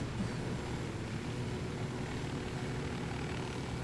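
Steady, dense rotor and engine drone from a helicopter in the video game Ghost Recon Wildlands, continuous and fairly loud throughout with no speech.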